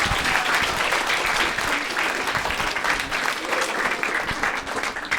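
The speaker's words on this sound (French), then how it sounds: "Merci, on peut l'applaudir encore une fois, Solène Gicquel." A conference audience at the Bouge! event in Dol-de-Bretagne gives sustained, full applause for a jumping champion, thick and even clapping from a large crowd that carries on steadily throughout.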